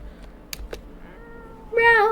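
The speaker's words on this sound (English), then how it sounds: "Well, that's a little kitty." A small kitten gives one clear, rising-and-falling meow near the end, fairly loud and close, after a couple of faint clicks over quiet background noise.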